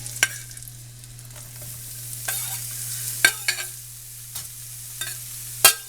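Pheasant back mushrooms (dryad saddle) frying in a pan under a soft sizzle, broken by sharp spatula scrapes and clacks at irregular intervals over a steady low kitchen hum.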